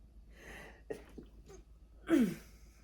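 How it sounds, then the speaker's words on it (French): One sneeze bursts out near the end, preceded by breathy inhalations and a few soft vocal sounds in a quiet room. "Je vais éternuer."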